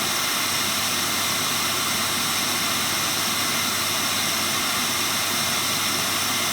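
A Tesla rotary engine with a heavy intake blockage runs steadily and spins up, giving a loud, continuous, broadband jet-like whine and roar with no pauses or voices.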